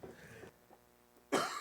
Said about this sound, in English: All right, with your coughing.